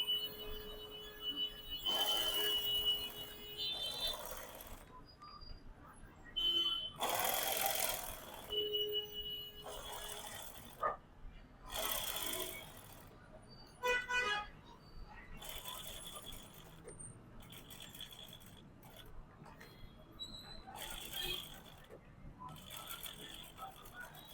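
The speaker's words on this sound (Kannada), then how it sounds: "ಸ್ಟಿಚಿಂಗು ಈ ತರ ಡಿಸೈನ್ ಮಾಡೋವಾಗೆಲ್ಲ ಸ್ಲೋ ಆಗಿರಬೇಕು" A sewing machine slowly stitching a boat neck blouse back neck design, running in short quiet whirring bursts with pauses between them over a faint room background.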